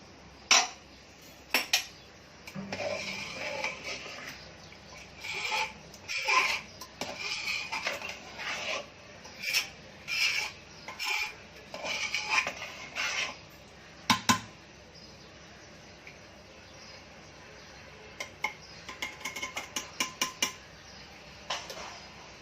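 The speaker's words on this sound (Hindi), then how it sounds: "अब मैं कुकर खोल के देख रही हूँ" A pressure cooker lid is opened after cooking cashew nut masala curry, with scattered metallic clinks and clatters of steel utensils coming in irregular bursts close by. No one speaks.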